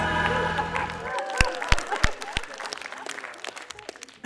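Applause in a played-back recording, following a short musical phrase, with sparse claps breaking out and then thinning away.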